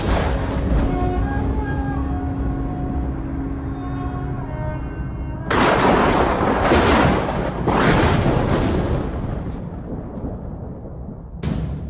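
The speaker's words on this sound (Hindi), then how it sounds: "मार दी सारी गोलियां उसकी छाती में" Gunfire in a Hindi action film, bullets pumped into a man's chest: a few heavy, booming bursts break over a dense, loud musical score.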